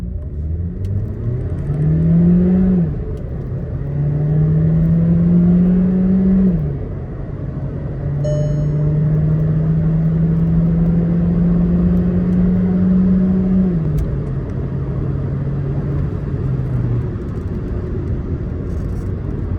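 A Skoda Slavia 1.5 TSI automatic launches hard from a standstill, its engine rising loudly through the revs, dropping at each gear shift and climbing again in repeated long surges, heard from inside the cabin with no voices.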